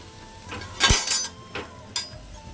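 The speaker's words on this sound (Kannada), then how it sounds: "ಇವಾಗ ಕ್ಯಾಪ್ಸಿಕಮ್ ಹಾಕ್ತಿದ್ದಾರೆ" Chopped capsicum goes into a pan of upma, with a clatter of utensil against metal followed by a few lighter clinks and taps nearby.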